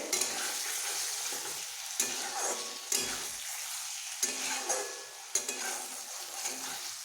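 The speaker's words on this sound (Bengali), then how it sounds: "আমার মশলা থেকে বেশ তেল ছাড়তে শুরু করে দিয়েছে" Spice paste frying in oil for a parshe fish curry: a continuous close sizzle punctuated every second or so by sharp stirring scrapes against the pan, with no talking.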